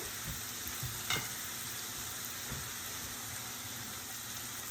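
Vegetables are stirred in a sizzling pan, a constant frying hiss with a few soft scraping strokes and one sharper clink, close and without talk.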